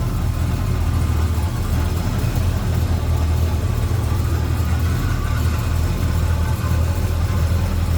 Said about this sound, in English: That big block runs smooth too